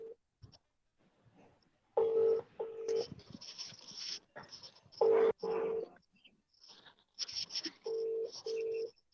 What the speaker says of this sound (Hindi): देखिए साहब, उसके रिंग जा रही है कछावा साहब के पास